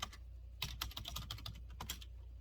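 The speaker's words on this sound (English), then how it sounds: "So I'm going to type in High Republic" Typing on a computer keyboard: close, light key clicks in an uneven flurry, with a short pause before a final pair of taps, no talk.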